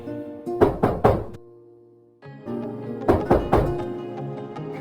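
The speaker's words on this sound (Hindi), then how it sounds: "तभी आधी रात में एक बूढ़ी माई उसके घर आकर दरवाजा खटखटाती है।" Knocking on a door in the middle of the night, two clear bursts of three sharp raps separated by a quiet pause, loud and close with no voices.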